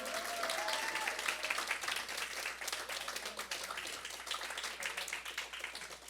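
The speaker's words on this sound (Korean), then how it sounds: "박수 좀 세게 쳐주세요" Congregation members clap hard and continuously during a Christmas church service, a dense, even patter of many hands that fills the room.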